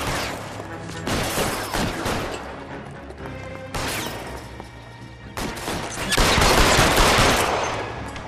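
Heavy gunfire in L.A. Noire, with dense, overlapping bursts of rapid shots that keep up throughout and swell to a louder stretch near the end.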